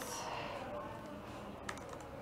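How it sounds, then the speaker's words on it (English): Rapid typing on a computer keyboard at a Las Vegas tech meetup, with a steady patter of key clicks over a dense room murmur and one sharper keystroke near the end. "If you want, I can do the typing for you."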